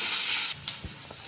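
Grated coconut sizzles and fries in a pan as a spoon stirs it, giving a steady bright hiss with a few soft scraping knocks near the end.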